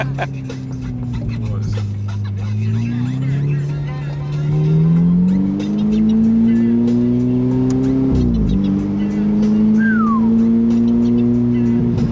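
A Ferrari 488 sports car engine revs and accelerates hard, its loud roar climbing in pitch, with a brief dip as it shifts gear before pulling again.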